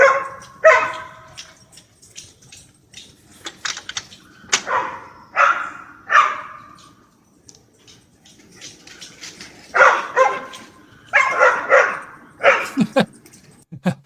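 A dog barks in short irregular bursts, sometimes in doubles and triples, fairly close in a quiet setting with pauses between the barks.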